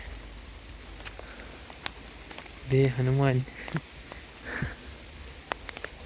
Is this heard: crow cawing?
no